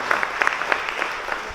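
An audience at the Accountability Summit 2019 applauds a panel, a brief burst of steady clapping with sharper individual claps standing out, fairly close and even in loudness.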